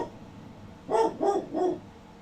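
Three short barks from a dog in quick succession, fairly close and moderately loud, standing out over a quiet background.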